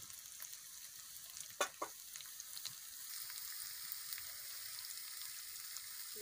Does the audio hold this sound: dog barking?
no